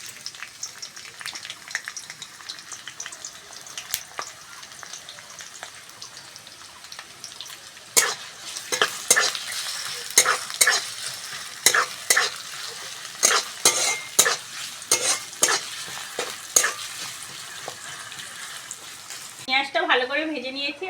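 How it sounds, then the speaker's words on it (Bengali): Chopped onion hitting hot mustard oil, a quiet crackle that swells into loud, repeated sizzling bursts and spatula strokes, with a voice talking over it and a short watery swirl at the end. "তেল গরম হয়ে গেছে, পেঁয়াজ কুচোনোটা দিয়ে দেবো"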